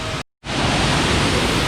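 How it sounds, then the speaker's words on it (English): Rushing water from an artificial waterfall in a zoo habitat, a loud steady broadband roar, briefly cut to silence before resuming evenly. "they have a really neat waterfall set up here at the zoo"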